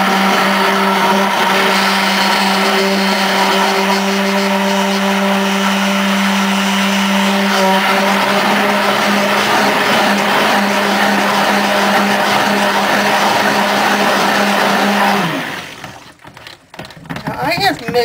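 A blender whirs steadily while mixing soap batter, loud and continuous with a constant motor tone for about fifteen seconds before cutting off, followed by brief clattering handling noise.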